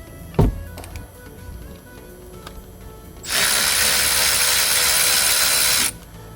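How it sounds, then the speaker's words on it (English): A power tool spins out a 7 mm Allen bolt on a Mercedes-Benz C-Class W204 rear brake caliper, running as one loud continuous whir for a few seconds after a sharp knock and some faint clicks. "So I'm gonna open these Allens in order to release the"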